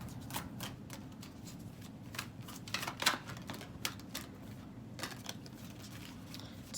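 Tarot cards shuffled and drawn by hand: quick, dry riffling flutters and soft slaps in irregular bursts, close and quiet, with no voices.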